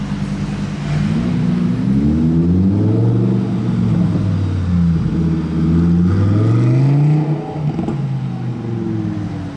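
A Ferrari with a Novitec-tuned V10 revs aggressively in slow Paris traffic, its loud, throaty engine note rising and falling in repeated swells close by, with a steady low rumble underneath.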